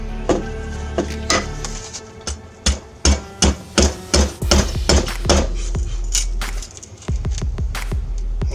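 Survival shovel blade striking hardwood in a fast series of sharp, loud chops, spaced unevenly at first, then tightly grouped in a steady run of blows before trailing off into lighter taps.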